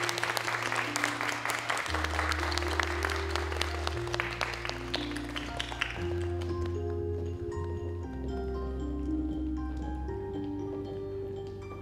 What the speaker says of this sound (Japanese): 皆様どうぞ大きな拍手をお願いします。